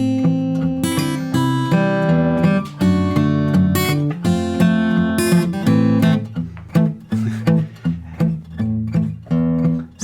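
Travis picking on guitar, with a steady alternating bass under plucked chord thirds that make a lively melodic pattern of distinct, close notes, played alone.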